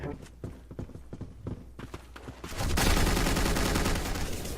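M4A1 rifle fire in the video game Black Squad: a run of separate sharp shots followed by a loud, continuous burst of rapid gunfire.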